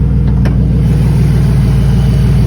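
A car engine runs steadily up close, a loud, continuous idle with a low rhythmic pulse, heard with no exhaust fitted after a pull.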